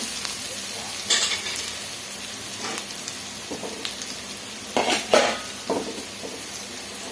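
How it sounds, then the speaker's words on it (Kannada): Kannada-style tempering (oggarane) frying in a pan for soppu bassaru, a soft steady sizzle with a few louder crackling bursts and light utensil clinks, close by, with no talk. "ಈ ಕಡೆ ಒಗ್ಗರಣೆ ಮಾಡ್ಕೊತಾ ಇದ್ದೀನಿ"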